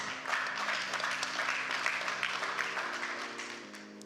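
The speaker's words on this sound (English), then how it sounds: "Let's give ourselves a round of applause." A conference audience applauds itself at an opening welcome: a fairly soft, continuous wash of many hands clapping, with low sustained tones humming steadily underneath.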